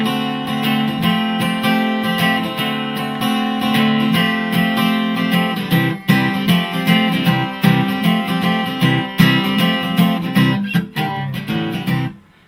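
Chorus of a song strummed on an acoustic guitar, close and full, a steady rhythmic pattern that loosens toward the end before stopping; no one talks.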